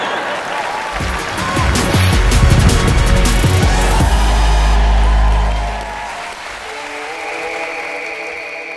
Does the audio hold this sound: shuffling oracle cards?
no